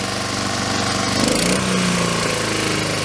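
A Honda Harmony II HRT 216 lawn mower engine runs steadily after a carburetor cleaning, a loud, close, continuous buzzing drone with an even rhythm and no voices over it.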